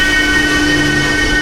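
A steady, loud rumble of a short two-coach train arriving at a station in Poland, with a sustained tonal hum, heard close by for a brief moment.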